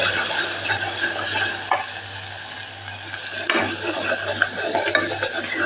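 Spices, cumin powder and red chilli powder, sizzle in hot oil close up while a spoon scrapes and stirs the pan in irregular strokes.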